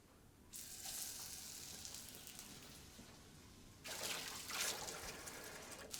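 Flour-dredged risotto balls fry in a pan with a quiet steady sizzle that swells suddenly louder partway through, as if more hit the oil, then keeps crackling evenly.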